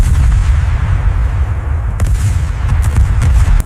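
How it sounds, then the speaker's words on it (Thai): Heavy, continuous low rumble of distant artillery fire near Koh Kong on the Thai border, with a few sharper cracks standing out near the end; loud and unbroken, no voices. "มีรายงานว่าฝ่ายตรงข้ามยิงปืนใหญ่เข้าใส่พื้นที่ฝั่งไทยอย่างหนักหน่วง"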